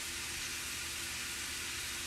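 Chicken sausage and peppers sautéing in a cast iron skillet give off a steady, soft sizzle and hiss, continuous and fairly quiet with no talking over it.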